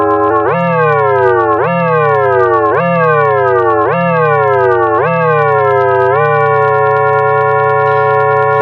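An AE Modular synthesiser wavetable oscillator in bipolar mode sounds a loud, buzzy harmonic tone that swoops upward and sags in five regular pitch sweeps about a second apart, then settles into a steady drone, with no voices.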